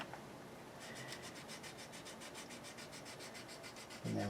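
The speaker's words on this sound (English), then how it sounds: "you go to another lighter sander, and I'll call it detail sanding, but it helps take any scratches that you put into the kit" Detail sanding along a seam on a plastic F-14 model kit with a light, fine sander: close, steady back-and-forth rasping strokes in an even rhythm, with no voices.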